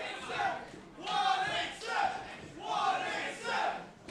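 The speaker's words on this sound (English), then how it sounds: "And you hear the crowd chanting 187." A wrestling crowd chants rhythmically in repeated bursts, loud rising and falling waves of many voices filling the arena.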